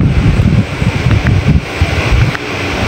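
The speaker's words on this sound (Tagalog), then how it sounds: "Medyo mahangin ngayon dito." Strong gusts of wind buffet the microphone at a hilltop farmhouse in Pililia, Philippines, with a low rumbling roar, steady and loud, with no voices present.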